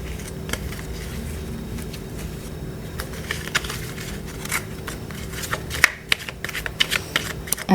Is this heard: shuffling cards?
yes